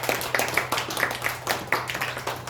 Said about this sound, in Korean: 박수 좀 해주시기 바랍니다.